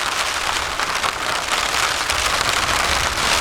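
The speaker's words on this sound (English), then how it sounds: "You can hear the rain." Steady rain falls on a low-pitched tarp shelter during a calm morning, a dense, continuous hiss and patter close overhead, even and unbroken throughout.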